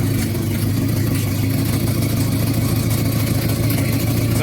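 A 1992 Honda Civic with a swapped engine runs in a continuous loud, deep rumble, heard close up and steady throughout with no talking.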